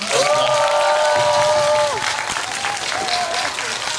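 An audience at a Korean film talk event for the movie Money applauds with a steady, full clapping, while a sustained musical tone sounds over it and then fades, some crowd noise mixed in.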